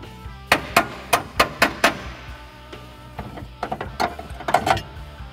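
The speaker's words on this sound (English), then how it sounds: "you're going to take a drift and a hammer and just tap it out" A hammer strikes a drift to tap a drilled-out bolt from a 1967 Chevelle trunk hinge. Five evenly spaced metallic blows ring out first, then come a quicker run of lighter taps, close and crisp.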